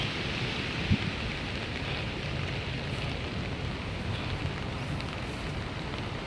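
Steady rain falls throughout, a continuous dense hiss of drops with no voices and no breaks.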